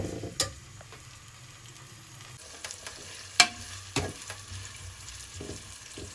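Onions frying in oil or ghee over medium heat for aloo gosht: a faint, steady sizzle with a few sharp stirring clanks and scrapes in the pan.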